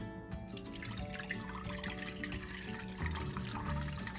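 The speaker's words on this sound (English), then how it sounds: "we're going to add some water to our" Tap water pours steadily into a kitchen pan, a close, continuous splashing rush with no talk.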